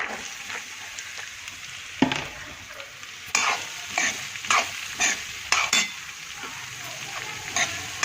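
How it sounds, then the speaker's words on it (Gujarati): Onion sizzling and frying with cumin in a pan, a steady hiss broken by several louder bursts as the pieces are stirred, close and alone without talk. "જીરું નાખી દઈએ, થોડું શેકાય એટલે હવે ડુંગળી નાખી દઈએ."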